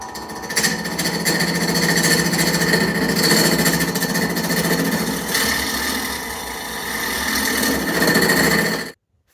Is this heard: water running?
no